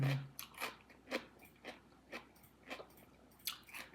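Close, crisp crunches of someone biting and chewing crunchy food, with a regular rhythm of sharp bites about every half second and soft breathing in between.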